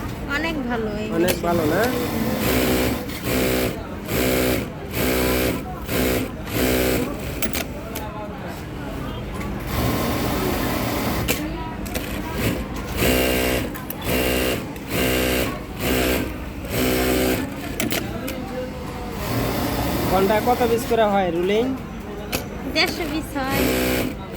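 A JACK A5E industrial sewing machine runs in short repeated bursts, whirring on and off in a rapid stop-start rhythm, close and loud, while someone talks over it.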